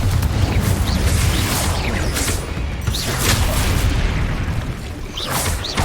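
A Confringo explosive spell goes off in a Harry Potter video game, loud booming blasts and crackling bursts rolling continuously over dense rumbling game noise.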